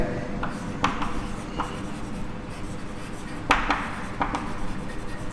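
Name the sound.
writing an equation on a board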